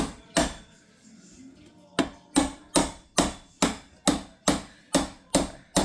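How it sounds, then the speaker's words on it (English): Hammer blows on a dented metal patio dining chair part, one strike then a steady run of about ten sharp, evenly spaced bangs, close and loud. "So right now I'm gonna hammer it down."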